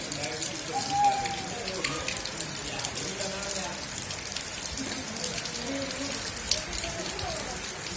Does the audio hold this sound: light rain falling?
yes